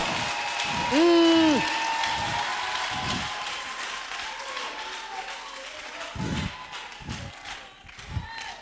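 A church congregation applauds the Lord in a lively wash of clapping and crowd noise, with a voice rising over it and scattered thumps spread across the stretch.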